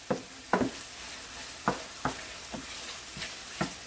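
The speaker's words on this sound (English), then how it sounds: "you saute it out until you cannot see the red part of it" Tomato sauce sautéing in a pan, cooked down until thick, with a steady soft sizzle broken by repeated scraping strokes of a spoon stirring it, close up and with no talking.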